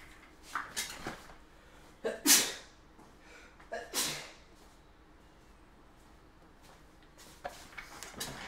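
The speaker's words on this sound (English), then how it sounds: "Had to sneeze." One person sneezes sharply and loudly amid a quiet room with scattered soft breaths and rustles. A few fainter noisy bursts follow.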